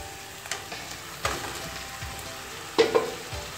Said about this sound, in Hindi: कीमे की बुनाई करूँगी जब तक कि कीमा अपना पानी ना छोड़ दे